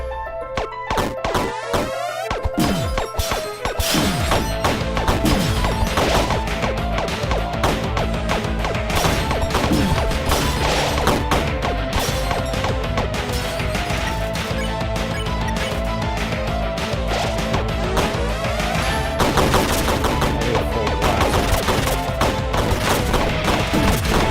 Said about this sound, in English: I can dodge the explosions.